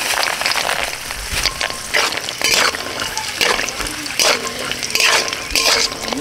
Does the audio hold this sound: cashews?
yes